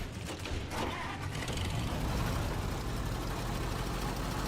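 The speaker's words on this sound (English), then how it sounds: "the sound of this engine is so good" A truck engine from the off-road driving game Snowrunner runs at a steady low rumble, loud and continuous throughout, with faint mechanical clanking over it and no talk.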